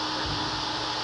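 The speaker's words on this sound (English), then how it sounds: "turn the vacuum on, we'll just fake it" A vacuum cleaner runs with a steady, loud whooshing drone during hardwood floor buffing, unbroken and close for the whole moment.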